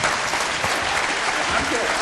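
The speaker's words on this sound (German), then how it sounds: "Großen Applaus mal" Steady crowd applause at a Warcraft III esports tournament fills the whole moment, dense and even, with faint voices murmuring underneath.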